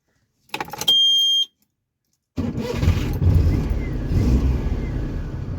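A Maruti 800 with a worn distributor carbon brush starts up: a short mechanical rattle and a steady high warning tone, a pause, then the engine catches and runs with a close, loud, rough idle.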